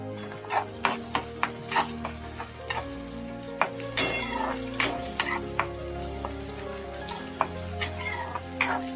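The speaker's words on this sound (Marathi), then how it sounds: "इथे पहा, 1 चमचा आलं लसूण पेस्ट घालते। त्यालाही आपल्याला परतून घ्यायचं आहे।" A spoonful of ginger-garlic paste sizzles in a pan while a spoon scrapes and taps the metal in sharp, irregular clacks over a constant frying hiss; no one speaks.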